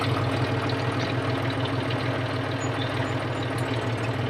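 A tractor engine running a hay mower that had been submerged underwater, as the PTO is slowly engaged. It makes a steady, close, continuous idling rumble with an even throb throughout.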